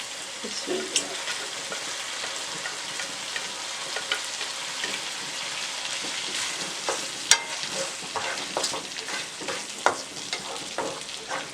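Brain masala (maghaz) frying with green chillies and fresh coriander sizzles steadily in a pan, with scattered crackles and stirring clicks throughout and no talking.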